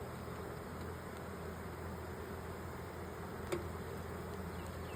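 A steady, dense buzzing of many honeybee drones at an open hive fills the air, constant and close, with no voices.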